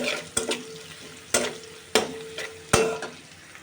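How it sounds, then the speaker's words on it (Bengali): Onion and garlic fry in oil, left after fish was fried in the same oil, giving a low background sizzle broken by four sharp stirring scrapes spaced about a second apart, close and without talk. "এবার আমি ওই তেলের মধ্যে একটু পেঁয়াজ আর একটু রসুন দিয়েছি,"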